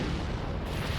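A broad, noisy blast rumbles from an explosion in Naruto Shippuden Ultimate Ninja Storm 4. It is a continuous, dense roar that fills the whole second at moderate loudness, with no voices over it.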